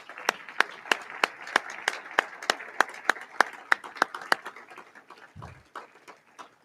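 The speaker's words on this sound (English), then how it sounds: "Can we all give them a round of applause?" A small room audience gives a round of applause for a string quartet at a Rotary Club meeting, with distinct, evenly spaced claps that thin out and fade after a few seconds.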